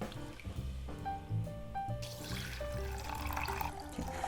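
A kitchen faucet pours water over multigrain rice being rinsed, a soft, steady stream running under faint background tones that grows fuller and louder partway through.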